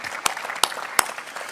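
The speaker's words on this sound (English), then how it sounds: "give a round of applause to our speakers" A few sharp, isolated hand claps from a conference audience after speakers finish, three distinct smacks spaced irregularly over a low room hum, moderately quiet and with no voices.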